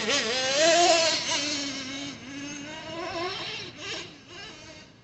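A Traxxas nitro RC truck engine idles on a dusty run: a steady buzzing drone with a slight warble, loudest early and easing somewhat, running alone without talk.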